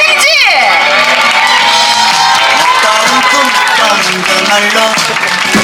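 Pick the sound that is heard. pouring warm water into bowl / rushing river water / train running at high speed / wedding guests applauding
wedding guests applauding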